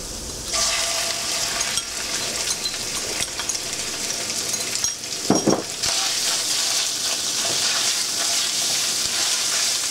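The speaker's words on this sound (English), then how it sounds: "And fry this pork up." Pork with ginger fries in a pan with a loud, steady close sizzle, broken by a metallic clink of a utensil against the pan midway, and no talking.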